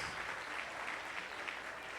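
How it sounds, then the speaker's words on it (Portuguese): Congregation applauding inside a church service, a steady dense wash of many hands clapping at moderate, fairly distant level with no clear individual claps standing out. "Vamos aplaudir a esses queridos, vamos, irmãos?"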